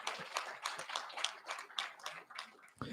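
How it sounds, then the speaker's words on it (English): Sparse, quiet clapping from a small group at a high school senior awards ceremony, uneven individual claps in loose rhythm, fairly distant and faint. "Give a round of applause to your coaches."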